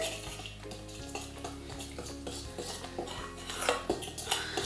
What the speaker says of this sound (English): Farina is flour, and we will mix again.